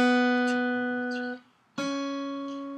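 Solo guitar melody from the Bell Carol, sustained plucked notes ringing clearly with a brief gap midway before the line resumes, no voice present.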